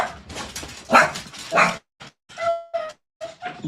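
A dog barks in a few loud, close bursts during a podcast recording, then gives several short, high whining yelps separated by brief silences.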